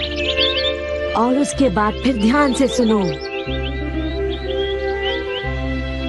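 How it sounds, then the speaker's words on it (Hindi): Small birds chirp and tweet throughout, faint and distant-sounding, while a person speaks over them in the middle against a steady low hum. "दूर से आती है चिड़िया की आवाज।"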